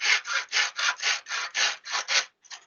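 Nine brisk back-and-forth saw strokes cut through an arrow shaft held in an inexpensive miter box, close and evenly rhythmic, followed by a short final stroke.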